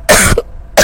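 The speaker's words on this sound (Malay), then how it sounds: "Batuk pula." Two sharp coughs from one person indoors during a house walkthrough, the first longer and harsher, then a brief pause before a second short cough, loud and close with no talking.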